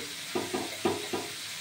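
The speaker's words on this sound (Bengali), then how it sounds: "সব মোচাগুলোই দিয়ে দেবো। নেড়ে চেড়ে কষিয়ে নেব" Banana flower stir-fried in a pan gives off a steady sizzle, with four soft rhythmic scrapes of a spatula stirring it. Quiet and close, with no one talking.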